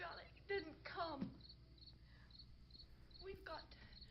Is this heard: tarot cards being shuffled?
no